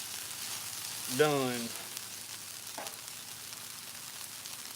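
Meat frying in oil in a pan gives a steady, soft sizzle throughout, with a brief voice over it early on and a faint clink of stirring.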